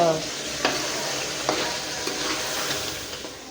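Steady sizzling of chicken and potatoes frying in a pan, with occasional scraping clicks from stirring at an irregular pace, close by and moderately loud.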